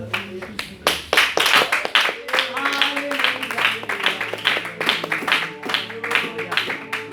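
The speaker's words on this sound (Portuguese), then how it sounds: "Pode se assentar, glorificando a Deus com as palmas." A church congregation claps hands to glorify God, rhythmic and fairly close, with distinct claps falling in a steady beat and voices singing along underneath.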